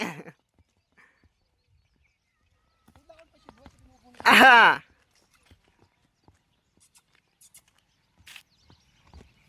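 Sparse hooves clop faintly on hard ground, and a horse gives one loud whinny partway through; a voice speaks briefly.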